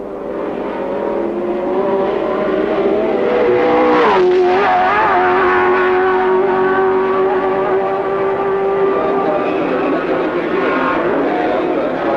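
1967 Formula 1 race cars flat out down the straight at the German Grand Prix, a loud, close engine howl that rises and then holds a steady high pitch, with a commentator talking over it.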